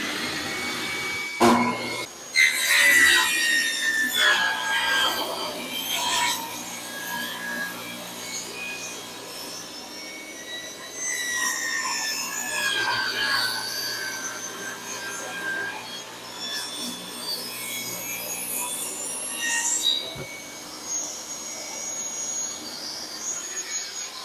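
Power saw cutting pine-type boards under an inch thick, 5.5 inches wide and 6 feet long, for a trellis: a loud, steady whining cut with a few sharp starts and stops, close by, with no talking.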